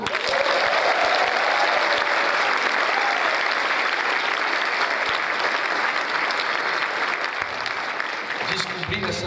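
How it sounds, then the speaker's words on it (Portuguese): Sustained audience applause fills a lecture hall on school drug prevention, dense and steady for about nine seconds before thinning slightly at the end. "Por favor, aplausos."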